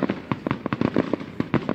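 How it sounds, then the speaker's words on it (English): Fireworks bursting outdoors in a rapid irregular series of sharp cracks and bangs, about a dozen loud pops spread through the stretch with some overlapping. "You can never watch fireworks."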